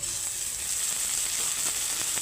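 Shrimp seasoned with salt and turmeric fry with half-browned chopped onion in hot oil, giving off a dense, steady close-up sizzle with faint stirring taps.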